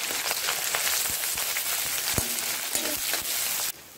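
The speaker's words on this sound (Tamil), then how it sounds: "வெங்காயம் நல்லா வதங்கி வந்துருச்சு" Onions, curry leaves and slit green chillies sautéing in oil in a pan for a Tamil fish curry, a steady close sizzle and crackle with occasional pops, cutting down to a softer hiss near the end.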